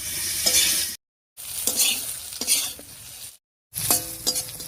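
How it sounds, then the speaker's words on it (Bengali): Pointed gourd slices fry in mustard oil in a kadai, a loud, close, hissing sizzle broken by stirring scrapes and clinks, cut by two short gaps of silence. "পটলগুলো ভাজা হয়ে গেছে"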